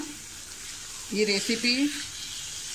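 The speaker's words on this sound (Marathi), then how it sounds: "हे पण आता असं व्यवस्थित आपण हे परतून घेऊया. 5 मिनटं असं आपण परतून घेऊया." Chicken kolhapuri masala sautéing in a pan gives a steady sizzle throughout, with a brief tonal squeak or voice-like sound partway that rises above it, close and moderately loud.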